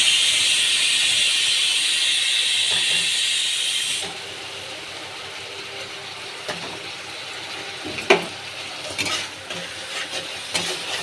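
Tomato gravy fries in a pan with a loud, steady close-up sizzle for about four seconds, then settles into a quieter hiss broken by a few sharp stirring clicks.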